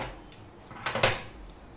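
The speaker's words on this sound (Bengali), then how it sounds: "নিয়ে কড়াই বসিয়ে দিলাম" Metal clatter as a wok is set down on a stove, a few sharp scraping clinks and knocks spread over a second or two, close by and fairly quiet, with no talk.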